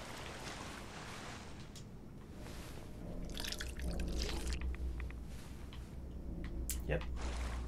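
Radioactive water drips and trickles in a Fallout 4 game scene, soft irregular drops over a low ambient hum, with a person talking over it.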